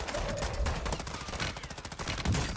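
Rapid automatic fire from a Lachman 556 assault rifle in Call of Duty, a dense unbroken burst of close, loud shots filling the whole stretch.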